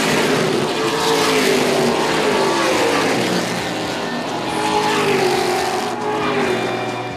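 Late model race cars racing on track, a loud continuous engine roar with layered revving motors rising and falling as cars pass, dense and close throughout.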